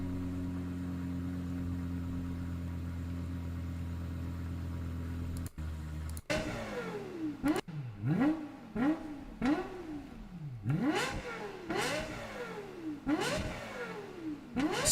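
A sports car engine idles, then starts up and revs hard in repeated sharp bursts, each rising and falling, loud and close.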